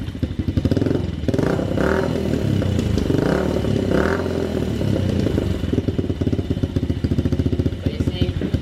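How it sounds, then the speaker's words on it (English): A Yamaha pit bike engine idling close by, a steady rapid putter with a slight uneven clatter that holds at a constant loud level throughout, briefly swelling in the first seconds. "But you see, it idles pretty good."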